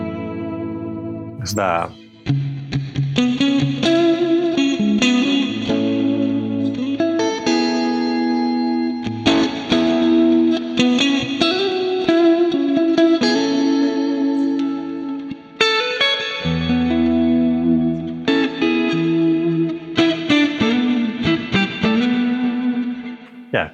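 Electric guitar played through a Tonex clean preset with slight saturation, loud and sustained chords and single notes with effects and delay tails, one brief spoken phrase near the start.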